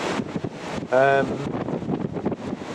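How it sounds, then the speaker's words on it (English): Strong Storm Darragh gusts at Bempton near Bridlington, East Yorkshire, roar steadily across the microphone as broadband wind buffeting, with a brief tonal whine rising for a moment before the rushing continues. "the gusts are up to about 50 odd miles an hour at the moment"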